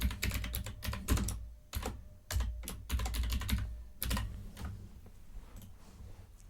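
Keys clacking on a computer keyboard as a title is typed into a web page editor, in close, uneven bursts of keystrokes with brief pauses between them.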